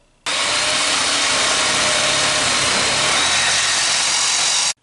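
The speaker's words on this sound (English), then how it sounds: "Now I'm going to cut out a section of the pipe." A power saw cuts through a section of PVC radon mitigation pipe, a loud, steady broadband whine that starts abruptly, holds for about four and a half seconds, then stops.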